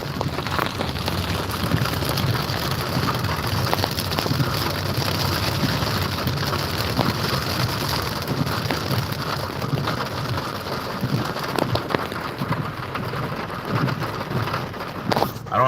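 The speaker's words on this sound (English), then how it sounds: "but lots of rain." Heavy rain pounds a moving car in a dense, loud, continuous roar on the roof and windows, with a low road rumble underneath and no talking.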